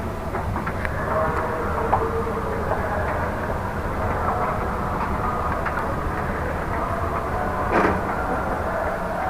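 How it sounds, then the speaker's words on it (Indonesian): Commuter train rumbling on a railway line between Klari and Rangkasbitung, a steady low roar with scattered wheel clicks and rattles, fairly close and continuous. "kereta komuter juga posisinya sudah standby"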